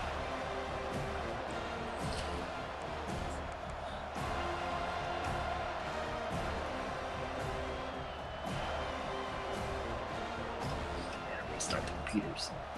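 A stadium crowd in the college football video game NCAA Blue Chips, Florida State hosting North Carolina, keeps up a steady roar of cheering with some whoops, under ongoing commentary.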